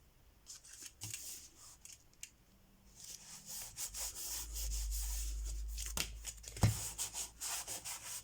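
Scissors cut paper for a handmade mini album in a quiet room, with soft rubbing and snipping strokes in short irregular bursts and a longer scraping stretch in the middle, close and faint.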